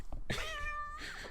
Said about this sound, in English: There is a cat attacking Steve right now, listeners.